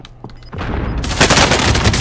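Rapid gunfire in Warzone starts with a few faint clicks and shots, then breaks into a loud, dense burst of automatic fire from about the midpoint, close and continuous to the end.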